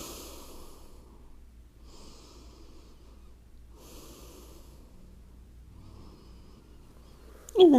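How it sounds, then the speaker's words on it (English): Slow, deep exhalations during a yoga session, soft airy breaths repeating at a relaxed pace in a quiet room, ending with a brief louder sound. "Big breath out."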